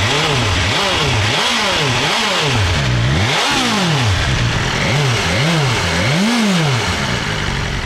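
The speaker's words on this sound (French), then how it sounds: "Malgré la norme Euro 5, on a un bruit sympa au ralenti." Euro 5 BMW S1000 XR motorcycle engine close up, idling and then blipped repeatedly, rising and falling in a steady series of quick revs over a constant loud rumble, with no voices.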